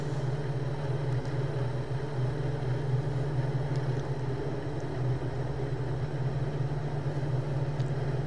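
A light airplane's engine runs up steadily before takeoff, the condition lever full forward and rpm near 1750, giving a loud, constant droning hum with no talk.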